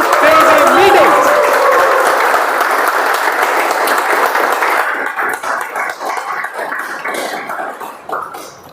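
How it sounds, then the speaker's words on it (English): Loud applause from a Toastmasters meeting audience celebrating a milestone meeting, a dense burst of clapping that gradually thins and fades, with a cough or two and scattered crowd noise mixed in. "So with a thunderous round of applause, let's give it up for 175 cool, crazy meetings!"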